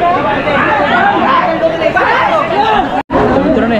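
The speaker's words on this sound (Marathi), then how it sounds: "ह्या वेळेस ट्रेनला खूपच गर्दी आहे" A crowded train platform at night is full of dense, overlapping crowd chatter, close and steady, with many voices blending into a continuous babble that cuts out briefly near the end.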